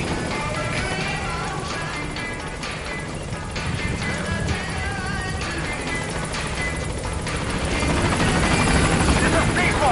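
A helicopter in the video game Metal Gear Solid V comes in to a landing zone, its steady rotor roar loud and continuous and building slightly toward the end, with radio chatter and impact noises mixed in.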